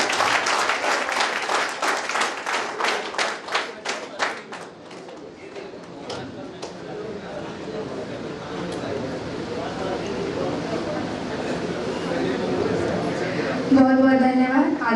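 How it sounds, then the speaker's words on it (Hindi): Loud applause breaks out at a ceremony for CISF personnel held at a meditation training centre in Bilaspur, with dense clapping at first, then fading into a murmuring crowd as someone begins speaking. "जोरदार तालियां बजाएंगे।"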